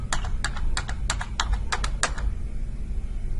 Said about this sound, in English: hit Enter 8 to 10 more times